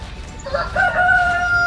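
A rooster crows at a homestead chicken coop, one loud, drawn-out call rising over low background rustle.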